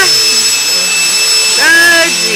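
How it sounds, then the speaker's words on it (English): A vacuum cleaner runs loudly and steadily in a home, a constant whine with tonal overtones, while a dog whimpers or howls over it near the end. "There's the vacuum."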